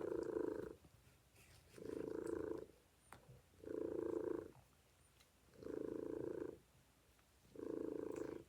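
A house cat purrs close and quiet, five long rumbling pulses, each lasting about a second, evenly spaced with soft breaths between them.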